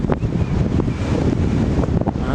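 Strong wind buffets the microphone on the Mount St. Helens crater rim, a steady loud roar with rumbling gusts that never lets up across the whole stretch, with no one talking.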